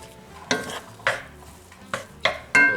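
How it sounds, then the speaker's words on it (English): Ground beef and sausage cook in a skillet as a utensil scrapes and stirs in several sharp, close strokes over a faint background sizzle. "So we're just going to cook this ground beef and sausage until it's done."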